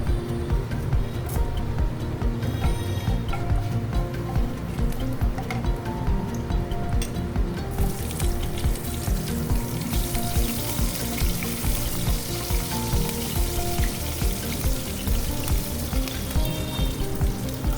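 Fenugreek seeds and slit green chillies tempering in hot oil left over from frying brinjal, over a lowered gas flame: a steady, dense sizzle and crackle that runs without a break, with faint clinks of utensils.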